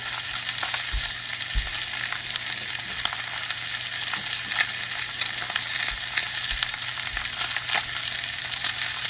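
A pork chop seasoned with garlic salt and ground pepper sizzles in a pan, a steady bright hiss with occasional pops and crackles, close and even throughout with no talk.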